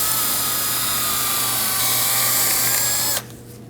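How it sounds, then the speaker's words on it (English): A bore brush spun by a power drill whirs steadily and loudly inside the ball joint hole of a 2003-2006 Subaru Baja steering knuckle, holding a high whine for about three seconds before cutting off. "Now I'm going to use a bore brush on a drill and clean out the hole where the ball joint goes"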